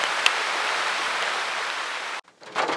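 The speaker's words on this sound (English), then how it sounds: "it just started raining" Rain starts falling at a farm, a steady dense hiss of drops on surfaces, fairly close, broken by a brief pause near the end before resuming.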